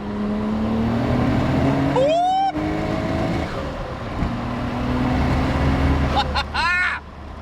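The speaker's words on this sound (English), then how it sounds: "nice little second gear pull." Nissan Skyline R33 GTR pulling hard in second gear on a track, a steady loud engine drone rising in pitch, heard from inside the car with brief vocal sounds over the top.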